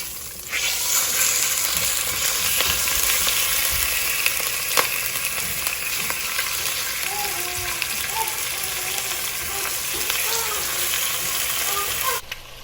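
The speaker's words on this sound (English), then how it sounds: "All right, so I've got my chicken searing in the pan." Boneless chicken sears in a heavy-bottom skillet over medium heat, giving a steady, close, loud sizzle and crackle throughout, with faint voice-like tones in the background.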